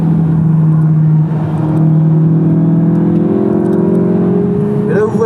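Volkswagen Golf 8 driven hard around the Magny-Cours racing circuit, its engine droning loudly and steadily from inside the cabin with rising and falling revs, while someone talks over it.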